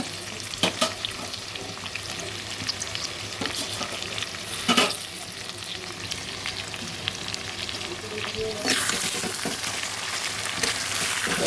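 A soft, steady sizzle of spices and green chillies frying in a pan for a papaya chicken curry, with occasional stirring scrapes and clinks, no talking.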